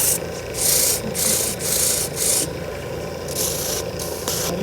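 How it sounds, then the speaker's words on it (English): Hand sanding with sandpaper, heard close and fairly loud as rhythmic back-and-forth rasping strokes, about nine in a steady pattern with brief pauses between, with no voices. "I'm just really good at sanding."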